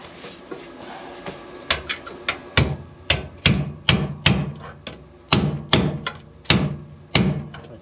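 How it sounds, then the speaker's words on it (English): A hammer drives a metal punch on the chassis of an International 1210 truck: a dozen or so sharp ringing metal strikes, irregular at first and then in a fairly steady rhythm, loud and close. "Now we're going to take our punch, we're going to drive this in"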